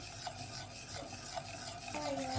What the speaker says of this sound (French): On tourne pour éviter les grumeaux.